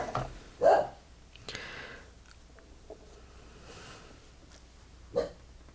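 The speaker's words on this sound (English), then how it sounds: "I hope you guys don't mind listening to Jonah bark." A beagle-puggle dog barks indoors during a live crafting session, a few loud single barks spaced apart with quiet room noise between them.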